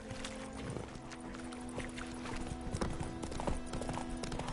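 Horse hooves clip-clop at a steady walking rhythm as Geralt rides his horse Roach in the video game The Witcher 3, with a soft ambient backdrop.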